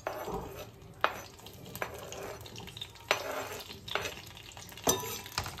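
Green tomato pieces sizzling in hot oil in a pan, a steady close fry broken by several sharp clinks and scrapes of a spoon stirring against the pan, with no talking.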